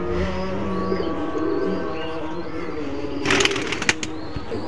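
An old male Chot pigeon of the Khulna line coos in low, steady murmurs close by. Near the end comes a brief burst of rustling or flapping.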